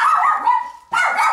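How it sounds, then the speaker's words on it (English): A dog barks and yips loudly at a house under remodeling, two close, sustained bursts separated by a brief pause, with no talk over it. "this dog is making too much noise, doesn't know me"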